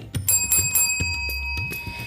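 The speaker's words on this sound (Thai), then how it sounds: "อย่าลืมกดกระดิ่งกริ๊งๆนะคะ" A bright, clear bell dings several times in quick succession, a crisp notification-style chime ringing alone with a lingering metallic tone.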